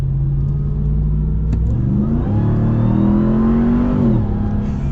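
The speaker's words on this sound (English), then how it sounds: "Sounds so good with the supercharger." A supercharged 2022 Ram 1500 TRX pickup accelerates hard, its engine rising in pitch as the revs climb, loud and close, with supercharger whine over the rumble and no talking.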